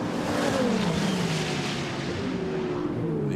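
Ferrari Challenge race cars run close together at Balaton, their engines blending into a loud, high-revving wail with pitch sweeping downward as they pass and chase, with no voices.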